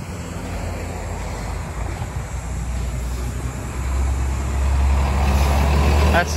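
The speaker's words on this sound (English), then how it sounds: "That's the 161 bus going to Ossington Station" A Toronto city bus on route 161 passes on a residential street, its engine rumble swelling as it nears, with faint voices beneath.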